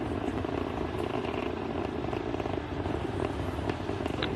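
Continuous loud, dense roar of a SpaceX Falcon 9 rocket climbing with crew aboard Dragon during the Polaris Dawn launch, a steady broadband rumble with crackling texture and no break, heard alone.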